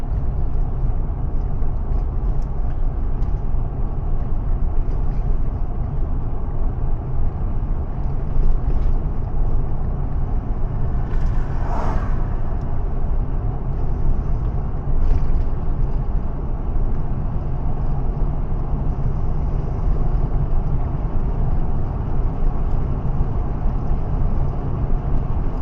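A car on a night road trip heading east from Cheyenne Drive in Iroquois toward Stagecoach Drive, with a steady low engine and road rumble from inside the cabin and a brief swell midway, no talking.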